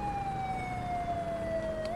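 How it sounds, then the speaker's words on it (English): An emergency vehicle siren in a video game sounds as a single sustained wailing tone that glides slowly downward and then rises sharply at the end, alone over a low rumbling background. "Is that your siren, Dylan?"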